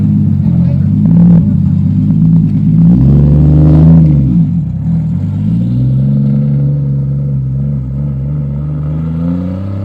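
A drift car on a mountain road revving hard up close, the engine note climbing and dropping through several throttle swings before settling into a lower steady drone, with a voice speaking over it.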